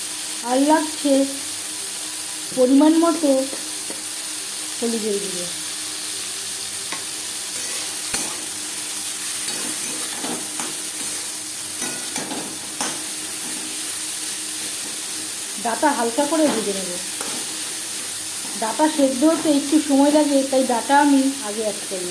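Stems with carrot and jackfruit seeds stirred in a frying pan for pumpkin-leaf stir-fry, a steady sizzle under intermittent scraping strokes, with several stretches of clear female speech over the cooking.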